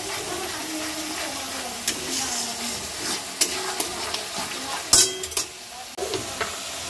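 Ginger-garlic paste frying in hot oil for a mutton and potato curry, a steady close sizzle with intermittent scrapes and clinks of a ladle stirring in the pot.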